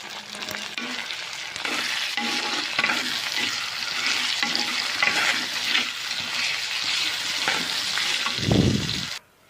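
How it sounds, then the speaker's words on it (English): Chopped tomatoes sautéed in a pan for a Srirangam vathal kuzhambu, a continuous loud sizzle broken by repeated scraping stirs, ending in a low thump before a sudden stop. "Saute well."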